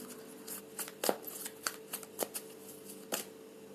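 Tarot cards are shuffled and drawn by hand, giving soft papery flicks and a few sharper snaps at an uneven pace, close and fairly quiet, with no talking.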